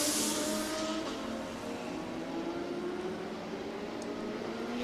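Race cars on track at the Hankook 6H Abu Dhabi endurance race, a continuous engine roar with rising and shifting tones as cars pass at a distance.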